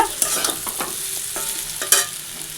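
Food frying with spices in a home cooking pan, a steady sizzle broken by sharp scrapes and taps of a stirring utensil.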